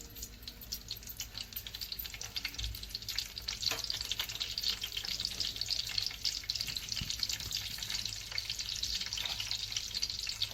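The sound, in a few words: spices and onions frying in pan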